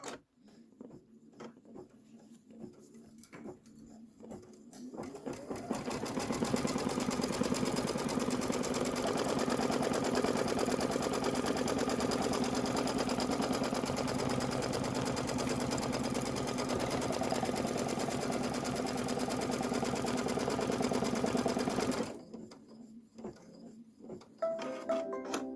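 An embroidery sewing machine stitches a tack-down line on fabric, a loud, continuous buzzing run that starts after a few quiet seconds, holds steady for about sixteen seconds, then stops abruptly, up close and alone.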